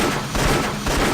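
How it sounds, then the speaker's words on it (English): Pistol gunshots in the Indiana Jones and the Infernal Machine video game, a dense run of loud, close game gunfire and booms continuing steadily across the moment with no talk. "I'll just shoot it with my pistol."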